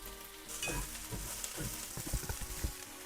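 Eggplant and shishito peppers sizzling and crackling in a hot pan, with a utensil stirring and scraping them around, close and fairly soft.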